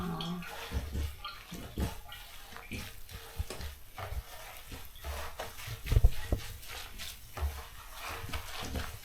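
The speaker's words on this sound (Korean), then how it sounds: "바로 세탁을 해보겠습니다. 대야에 완전 꽉 차는데" Water sloshes and splashes in a full basin as a knitted cardigan is hand-washed, with steady swishing and occasional louder dunks, close up and without talk.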